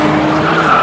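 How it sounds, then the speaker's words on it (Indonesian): Frank's modified car tears past with a loud, close tire squeal and skid over engine roar, one short continuous burst. "ternyata itu adalah suara mobil yang sedang Frank modifikasi sebagai kendaraan untuk melancarkan"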